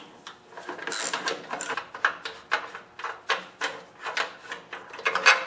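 A wrench turns a half-inch bolt on an older 8HP Briggs & Stratton engine. Rhythmic ratcheting clicks and metallic scrapes repeat close by at a moderate level, with no voices.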